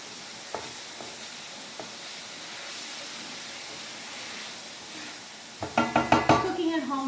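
A wok hisses with garlic and ginger frying for lo mein, a steady sizzle that runs on before a spatula scrapes the pan bottom in several quick, loud, clattering strokes near the end.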